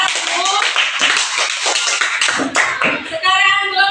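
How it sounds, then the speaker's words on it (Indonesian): Classmates applaud group 1 in a classroom, loud, busy clapping from many hands close by, with voices talking and cheering through it and rising toward the end. "Baik, tepuk tangan untuk kelompok 1."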